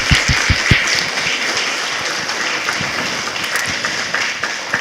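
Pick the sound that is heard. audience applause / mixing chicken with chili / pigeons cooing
audience applause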